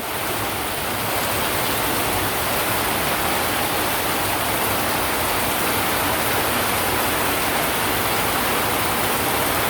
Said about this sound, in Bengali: বাপরে বাপ, ঝড়ি বৃষ্টি সমানে